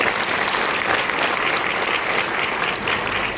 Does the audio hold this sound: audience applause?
yes